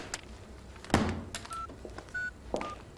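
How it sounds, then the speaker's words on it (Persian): A mobile phone being dialed: a few short, clear keypad beeps spaced irregularly, with a soft thump and light handling noise between them. Close and fairly quiet. "اینقدر موبایلش رو بگیر"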